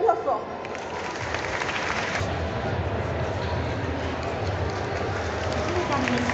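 Crowd applauding at a Paris manga cosplay parade in a large hall, a steady wash of clapping and cheering throughout, with a brief voice near the start.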